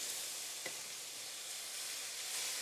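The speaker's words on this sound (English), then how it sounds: "I'm going to start stirring it now" Lamb stew with spices simmering and being stirred in a pot, a soft, steady hiss and gentle sizzle with one faint scrape of the spoon, quiet and close.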